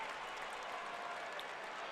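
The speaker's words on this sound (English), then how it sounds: "the crowd gets loud and on their feet" A basketball crowd at a Michigan versus UNC game swells into a loud, continuous roar of cheering and clapping, filling the arena with dense, unbroken noise.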